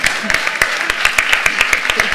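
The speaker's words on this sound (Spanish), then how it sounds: "hemos ido a aplaudir" Audience applause at a gender equality conference session, a scattering of distinct claps repeating in a loose rhythm over a steady background, with talk-like murmur underneath throughout.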